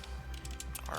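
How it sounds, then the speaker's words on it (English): Rapid close typing on a computer keyboard, a quick run of soft key clicks with faint background hum. "I'm going to type senior project"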